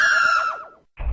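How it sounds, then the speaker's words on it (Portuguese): A scream in a Majora's Mask mod video game, one loud harmonic cry lasting under a second that wavers and fades, followed after a short gap by a brief low thud or rumble. "Ao caminhar até o centro da cidade, ele ouve um grito."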